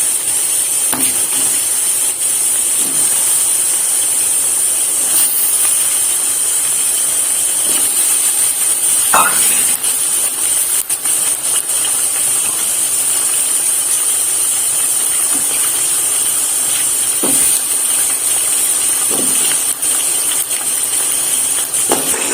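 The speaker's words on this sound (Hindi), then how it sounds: "अब हम इसमें चिकन ऐड कर लेते हैं।" Chicken mince fries in a pan, a constant loud sizzling hiss with occasional scraping and tapping of a utensil against the pan throughout.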